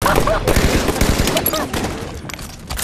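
Rapid gunfire bursts rattle through a video game raid, dense automatic shots crackling close with sharp repeated reports, while players shout over the shooting.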